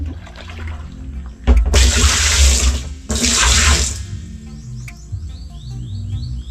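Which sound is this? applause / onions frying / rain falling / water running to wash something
water running to wash something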